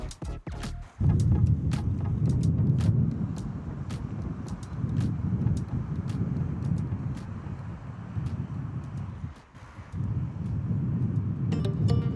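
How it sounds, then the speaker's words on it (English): Cars pass by near Adelaide Airport as a low, wind-buffeted rumble that swells and fades in waves, broken by occasional clicks and handling knocks close to the microphone. "You'll be able to hear those cars going by today."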